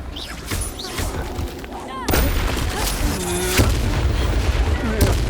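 Confringo fire spell exploding in Hogwarts Legacy, a loud booming blast that rolls into a sustained rumbling roar amid game combat noise, with a voice shouting over it.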